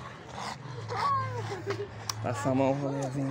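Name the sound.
pit bull dog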